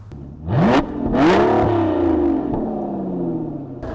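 A 2015 Aston Martin Rapide S V12 engine revs sharply twice, rising in pitch, then settles into a sustained, throaty high-rpm roar, loud and close.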